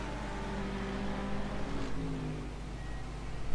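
GT3 race car braking hard into a corner at Oulton Park, engine note dropping through downshifts with tonal whine, then rising again as it powers through, heard steadily at moderate distance.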